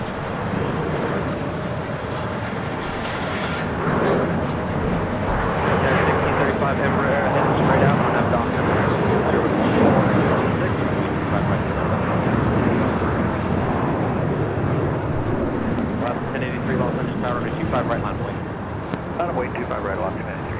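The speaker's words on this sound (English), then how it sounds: "That was Alaska SkyWest Flight 3424 heading to SFO and an E175." An Alaska SkyWest Embraer E175 jet bound for SFO departs Los Angeles LAX, its steady engine roar running throughout while people talk over it.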